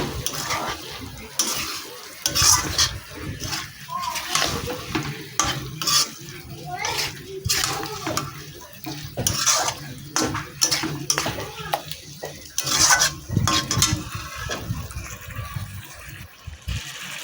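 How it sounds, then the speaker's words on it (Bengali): Loitta fish and potatoes being stirred in a pan for a spicy curry, with repeated scraping and clattering of a spatula against the pan over a low sizzle, close and rhythmic in uneven bursts. "মাছের সাথে আলুগুলো ভালো করে নাড়াচাড়া করে নেবো একদম।"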